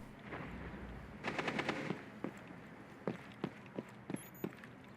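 Video game gunfire: a burst of rapid automatic fire, then several single sharp shots spaced irregularly over a low background din, moderately loud, with no talking.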